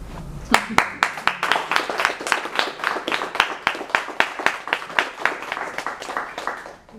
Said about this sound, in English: You're very good at clapping.